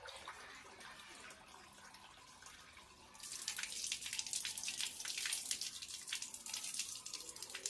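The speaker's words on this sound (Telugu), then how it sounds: "చూడండి ఎంత వేస్ట్ చేస్తుందో వాటర్" Water runs from a tap, faint and splashy at first, then louder and fuller as the flow strengthens, pattering steadily with no talk over it.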